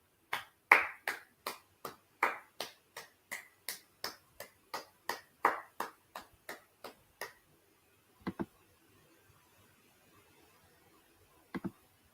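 Hands clap in a quick, steady rhythm, around twenty crisp, close claps in a row that then stop, followed after a quiet pause by two brief pairs of isolated claps.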